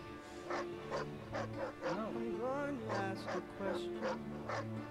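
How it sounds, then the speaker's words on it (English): Dog in the Mad Max video game gives a series of short yips and whimpering whines over a steady game soundtrack, with someone talking over parts of it. "Oh, look, that's the dog."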